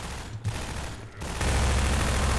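Enemy gunfire in Half-Life 2 rattles out as a rapid automatic burst, loud and dense, followed by a swell of sustained noisy combat sound, with no talk.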